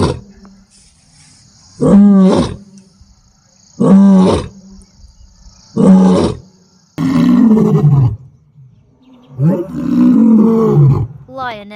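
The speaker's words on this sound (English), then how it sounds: "Lioness." A lioness gives a series of deep, loud roars, five separate bursts roughly two seconds apart, each a rising and falling groaning call, close and clear against quiet between them.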